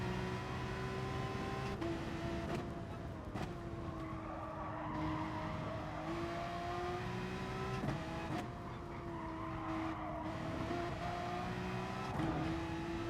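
A Nissan race car in the video game GT Sport screams through the gears, its engine note rising and dropping with repeated shifts and brief tyre squeals, loud and continuous with no speech.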